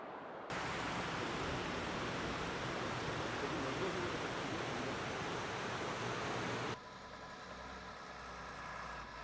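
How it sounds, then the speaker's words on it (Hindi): The Kishanganga river rushes on the way to Gurez Valley, a steady broadband roar of flowing water heard from a distance that cuts off abruptly and gives way to a quieter, lower hum. "इतना दूर से हमें जो पानी की साउंड सुनाई दे रही है"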